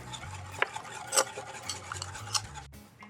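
A whisk stirs teriyaki sauce in a bowl with steady, quiet scraping strokes and occasional light metallic clinks, close by and with no talking.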